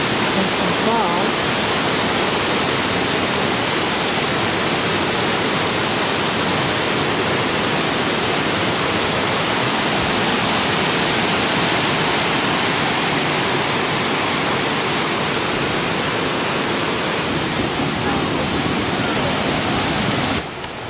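A creek in the Utah or Colorado countryside rushes steadily and loudly, a dense broadband wash of flowing water that holds nearly constant for the full stretch with no voices breaking through.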